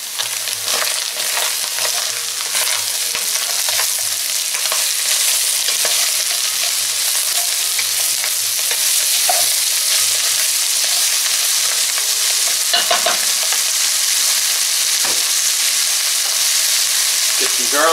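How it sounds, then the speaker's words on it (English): Onions frying in a pot for chili give a steady, loud sizzle throughout, with occasional stirring scrapes and small pops close by. "Let's fry this around with the onions for a bit."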